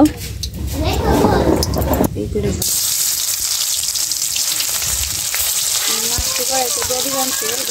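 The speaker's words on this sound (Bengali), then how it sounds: "এই যে কড়াইটা গরম হয়েছে, তেলটা দিল।" Oil crackles and sizzles in a hot karai, a dense close frying hiss that runs continuously after a sharp shift early on, with voices talking over it.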